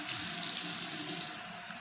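Tap water runs steadily from a faucet to wet a lace front wig, a continuous close splashing rush with no talk.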